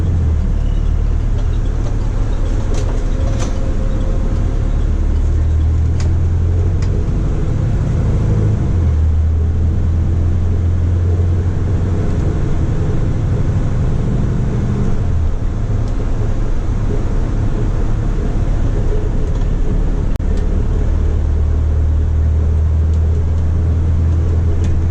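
An Otokar Navigo U coach engine pulls onto the motorway, a loud, steady low drone of engine and road noise rising and shifting in pitch as the coach gathers speed, heard from inside the cabin with no talk.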